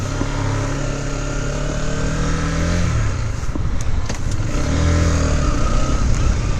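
A motorcycle rides along an open road, its engine droning and shifting pitch as it accelerates, with steady wind and road noise close to the rider.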